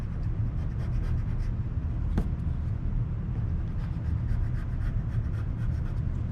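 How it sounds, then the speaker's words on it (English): A pencil drawing on paper is rubbed out with an eraser in steady, rapid back-and-forth scrubbing strokes, close and fairly constant, heard alone. "Erase what I don't need."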